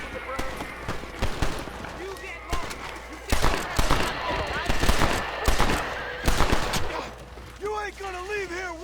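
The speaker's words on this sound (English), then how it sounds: "speaking of dynamic events, here's some gunshots over here" Gunfire in the video game Red Dead Redemption cracks out in irregular bursts of several shots, fairly loud against game ambience and voiced dialogue.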